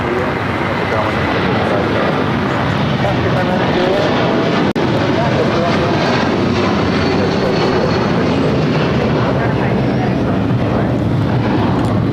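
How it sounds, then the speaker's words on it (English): A United Airlines Boeing 757-300 takes off, giving a loud, steady broadband jet roar that holds for the whole stretch, with a voice talking over it. "This is United Airlines 1224 taking off to Honolulu on the 757-300."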